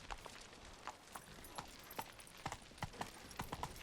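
Horse hooves clip-clop at a steady walking rhythm in The Witcher 3, close and distinct against a quiet background, with no talking.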